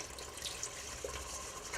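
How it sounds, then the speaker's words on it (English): Vegetable stock poured into a pot of butternut squash soup, a soft steady liquid trickle and splash running throughout, faint and close. "we're going to add some vegetable stock"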